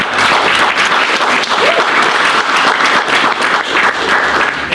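Audience at a conference talk breaking into loud, sustained applause, dense steady clapping from many hands throughout, with no voices over it.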